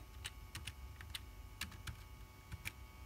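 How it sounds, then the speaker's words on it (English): Typing on a computer keyboard at a Raspberry Pi desktop, with a few irregular bursts of fairly faint, sharp key clicks spread across a few seconds over low background hum, no talking. "so I'm going to type"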